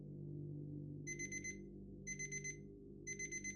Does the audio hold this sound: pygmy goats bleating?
no